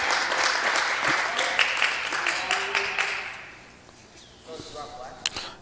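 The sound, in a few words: crowd applause at a high school basketball game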